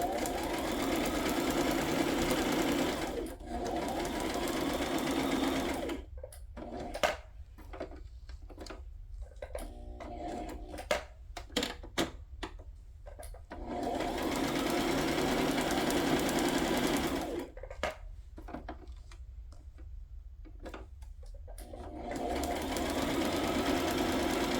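Sewing machine stitching fabric with gold thread, running in long steady whirring bursts separated by stretches of quieter clicks and handling, close and moderately loud.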